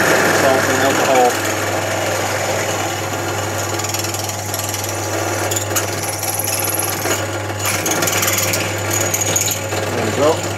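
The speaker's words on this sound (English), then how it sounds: "Okay, we're just going to drill now to 7mm." A power drill bores a 7mm hole for a night vision project, a continuous steady motor whine with grinding texture running throughout at close range.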